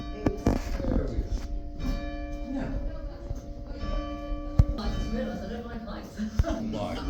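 Church bells ring inside the bell tower of Christchurch Cathedral, a sustained metallic ringing with lingering overtones close by, with people talking over it throughout.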